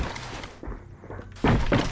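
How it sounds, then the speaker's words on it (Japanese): A grenade is thrown in the AVA shooter game: a soft thunk early on, then a louder, heavier impact burst near the end, close and short, with no voices. "手榴弾、手榴弾を使うぞ。"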